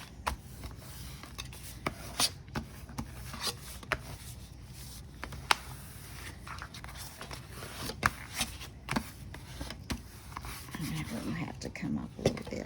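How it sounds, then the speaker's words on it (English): A composition notebook fold is rubbed down by hand, giving soft, quiet scraping strokes broken by faint clicks and taps over a low hum. "Now again, we're going to burnish that down."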